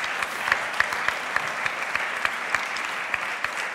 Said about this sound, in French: sous les applaudissements d'une foule en délire